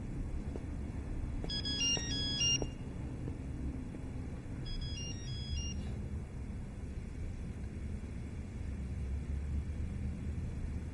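A telephone ringtone chirps in two short bursts over a low steady room rumble, close and without talk, in a Chinese drama scene.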